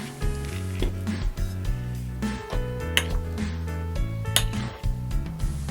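Microwave-steamed sweet potato is mashed in a bowl, with a utensil clinking and knocking against the dish in a run of short taps over steady background music.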